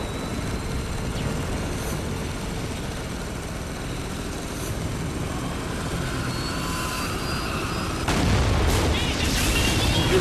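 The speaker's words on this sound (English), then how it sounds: "Helicopters these guys had." Helicopters in the shooter Spec Ops: The Line give a dense, steady rotor and engine roar that swells louder toward the end, with distant booms mixed in.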